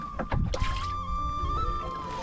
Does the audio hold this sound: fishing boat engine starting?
yes